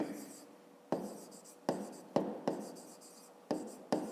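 Handwriting on paper while working a 5th-grade math exercise: scratchy pen strokes come in short repeated bursts, each opening with a sharp tap and trailing off, close and fairly quiet.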